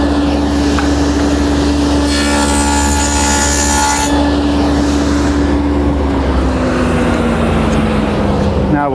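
A table saw with about half an inch of blade exposed cuts a test piece in a woodworking shop, a loud, steady motor whine with a brighter cutting burst through the wood in the middle before the blade note drops as it winds down.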